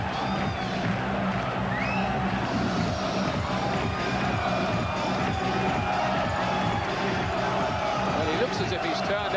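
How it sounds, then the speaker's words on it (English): A packed arena crowd on its feet at a WBO featherweight world title boxing fight, a dense continuous roar of voices and cheering heard under a commentator talking. "A fantastic crowd here. They've all got seats, but they're all standing up, this crowd"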